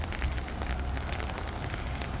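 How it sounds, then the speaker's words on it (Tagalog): Rain falling outdoors at night in the UAE during a downpour, a steady dense patter close by with no pauses. "Umuulan pa rin guys."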